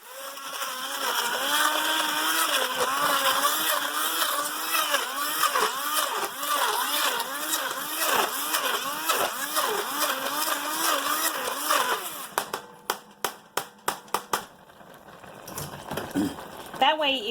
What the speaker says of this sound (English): I'm going to use a hand blender and just blend a little bit of it